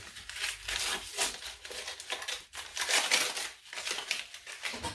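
Paper wrapping around a brick of cacao paste crinkles and crackles in close, irregular bursts as it is handled, loud and continuous with no talk.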